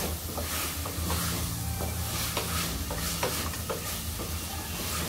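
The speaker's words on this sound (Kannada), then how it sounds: "ಸ್ವಲ್ಪ ಪನ್ನೀರ್ ಇತ್ತು ಅಂತೇಳಿ ಅದನ್ನು ಡೈರೆಕ್ಟಾಗಿ ಹಾಕ್ಕೊತೀನಿ." Paneer is stirred into tomato rice frying in a pan, giving a steady close sizzle with repeated scraping and stirring strokes and no talking.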